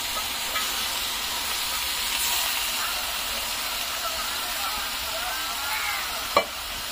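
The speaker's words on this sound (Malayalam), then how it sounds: "വാടിയതിലോട്ട് നമ്മൾ പെരട്ടി വെച്ചേക്കണം നമ്മുടെ ചിക്കന." Chicken being stirred and fried in a pan gives a steady, loud sizzle and hiss throughout, with faint scraping of the spoon and one brief knock near the end.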